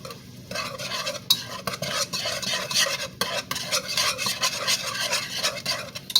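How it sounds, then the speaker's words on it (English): Flour is stirred into a roux in a pot for a one-pot shrimp Alfredo, with continuous rapid scraping and rubbing of a utensil against the pot and a light sizzle underneath, close and busy. "I'm going to make a roux."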